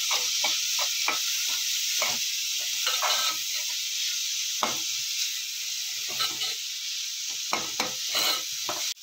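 Finely chopped tomatoes sizzle in a pan, a continuous bright hiss broken by irregular scraping knocks as they are stirred, close and steady.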